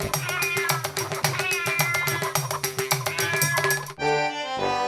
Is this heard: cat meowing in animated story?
yes